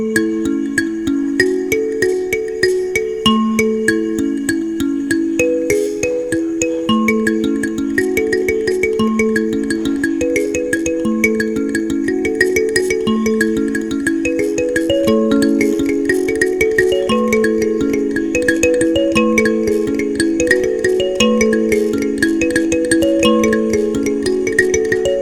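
An mbira plays the full Chamutengure sequence with bright plucked metal tines, interlocking notes ringing in a steady, repeating pattern with a faint buzzy rattle, close and continuous throughout.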